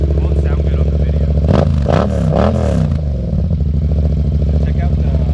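A Yamaha XSR700 cafe racer motorcycle engine idles with a deep, steady rumble, then revs up sharply several times before settling back into a throbbing idle, close by.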